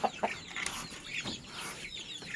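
A mother hen of the free-range kampung chicken breed clucks repeatedly in short, irregular bursts at close range, with other faint chirps and clucks mixed in around her.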